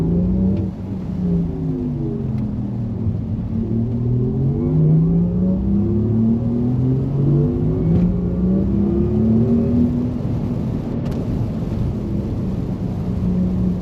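A 630hp Porsche Macan Turbo launching from a standstill and accelerating up a very wet hill course at Goodwood, its engine note climbing through the gears in a loud, sustained close roar.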